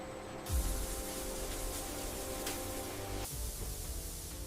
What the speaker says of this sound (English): Robotic spraying eliminates uneven coating and dramatically reduces paint waste.